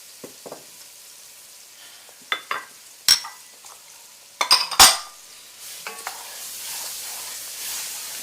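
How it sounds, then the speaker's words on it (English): Onions, peppers and celery hit a gumbo pot and are stirred, giving soft sizzling under scattered clinks and scrapes of a utensil against the pot, fairly quiet and close, with no talking. "we're going to add our onions, our peppers,"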